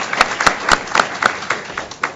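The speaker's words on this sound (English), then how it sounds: "Let's give our panel a round of applause before we head into questions." An audience applauds a conference panel in short, sparse bursts of clapping, fairly close, brief and thin rather than a full ovation.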